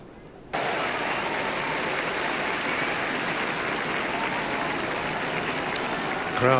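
A large racecourse crowd at the Osaka Hai, a Group 1 horse race in Japan, breaks into a sudden swell of steady cheering and applause that holds loud and dense throughout, with a brief higher burst near the end.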